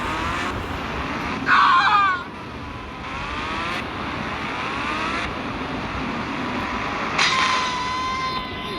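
Car engines in a video game police chase whine and rev with rising, shifting tones over a constant rumble, with brief louder bursts like a skid or a passing vehicle.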